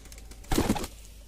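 A short, soft coo from a Saharanpuri pigeon rises once against a quiet, faintly noisy background.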